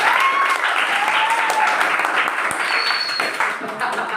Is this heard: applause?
yes